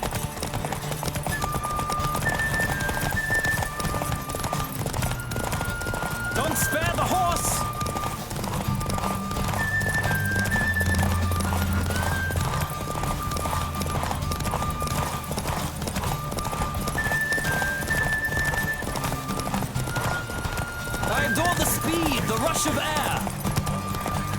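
Galloping horse hooves in a race in the video game The Witcher 3, a steady clip-clop rhythm running throughout under game music and occasional whinnies, with voices talking over parts of it.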